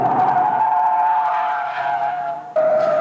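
A training car's tires skid and squeal across a skid pad during a driving school session, a loud sustained screech that wavers and briefly drops before resuming sharply.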